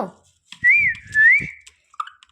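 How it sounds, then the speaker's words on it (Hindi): A pet parrot whistles two long wavering, sliding tones in quick succession, close and clear, followed by a few faint chirps and clicks in a quiet room. "मिट्ठुआ सीटी बजाता है"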